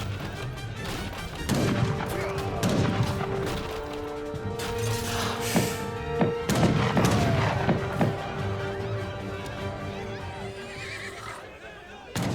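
Two town centers firing in Age of Empires 3 during a Portuguese versus Russia match: repeated booms and gunfire crackle amid horse whinnies and a busy game soundscape, with a commentator talking over it throughout.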